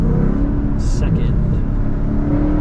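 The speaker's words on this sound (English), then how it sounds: "It's just braking. I'm not even touching the brake pad." A Ford Mustang GT engine-brakes in second gear on a North Georgia mountain road, making a loud, steady drone and rumble heard close from inside the car, with a brief hiss partway through.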